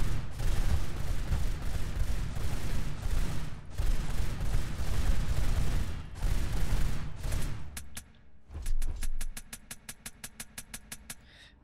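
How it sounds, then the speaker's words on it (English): SMG bursts in the VR shooter game Dark Storm: Ascension, long loud rattling volleys of rapid automatic fire broken by short pauses, then a closing run of evenly spaced single shots. "This is the SMG."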